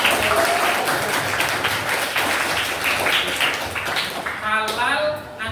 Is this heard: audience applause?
yes